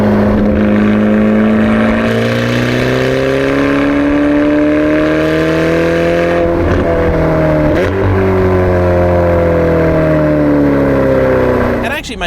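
A Ferrari Portofino engine pulls hard through the gears, its note climbing steadily with brief dips at each upshift, loud and close throughout.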